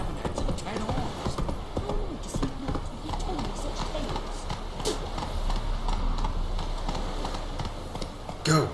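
Hoofbeats of Roach the horse in The Witcher 3 on PS4, a steady clip-clop of a running horse, with someone talking over the galloping rhythm and other game sounds.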